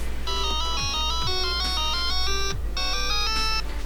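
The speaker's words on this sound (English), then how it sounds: "this little jewelry box, which I think is so cool, actually makes a little noise. I want to open it" A small jewelry box plays its tinkling mechanical melody when opened, bright chiming notes in a quick repeating tune over a low steady hum.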